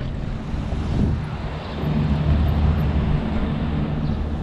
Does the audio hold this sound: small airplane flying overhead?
yes